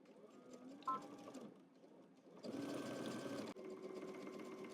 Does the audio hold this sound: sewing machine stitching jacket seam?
yes